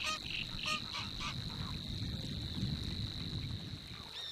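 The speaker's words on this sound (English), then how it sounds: "if another family of geese come too close, the intruders are immediately chased away" Geese honk repeatedly in the distance over a steady outdoor background with a persistent high insect-like whine.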